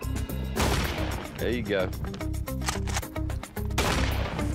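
A pump shotgun fires at outdoor targets, two loud sharp blasts about three seconds apart, with someone talking and steady background tones in between.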